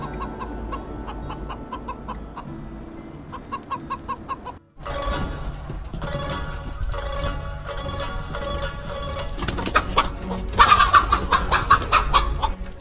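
Chickens cluck and call in the countryside, a busy flock heard close by with repeated short clucks and a few louder calls, steady throughout with no talking.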